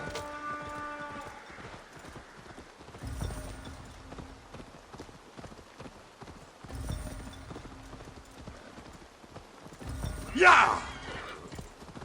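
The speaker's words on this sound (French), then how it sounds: "Donne-moi le temps de monter à cheval" Horse hooves clip-clopping in Assassin's Creed Valhalla during the Oskoreia festival, steady galloping beats with a horse whinny near the end, under background music, and a voice shouts once.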